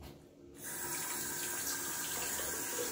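A bathroom tap is turned on and water runs steadily into a sink while the face is wetted for a cold wet shave, close and continuous with no talking.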